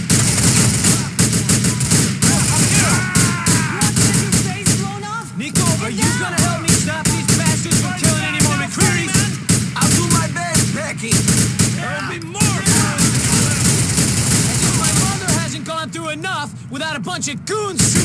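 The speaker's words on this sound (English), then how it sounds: "Goons shooting up her son's funeral." In Grand Theft Auto IV, goons shoot up a funeral with rapid machine-gun bursts and scattered single shots, loud and close, with characters shouting and talking over the shooting almost continuously.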